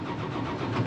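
A tractor engine restarting and firing right up, a brief steady mid-pitched mechanical roar that rises slightly at the end, close and alone.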